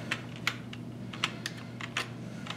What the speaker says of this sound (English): you're going to type in sudo space